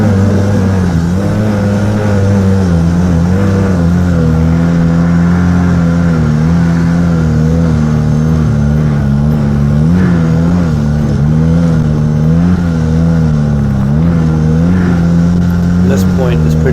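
A snowmobile engine revs hard and steadily on a steep, rutted climb up Coburn Mountain, its loud droning pitch wavering as the sled strains, with someone talking over it throughout.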